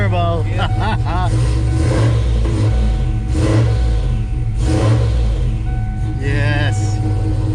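A turbocharged car engine with a custom turbo cam revs repeatedly, close and loud over a choppy rumble. Brief voices come through between the revs.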